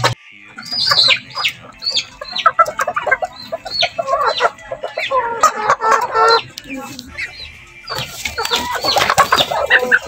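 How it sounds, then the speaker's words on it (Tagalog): Purebred Rhode Island Red chickens cluck and squawk up close in a busy flurry of repeated calls, with a louder burst near the end and faint voices speaking in the background. "Yan, yan ang Rhode Island Red na pure."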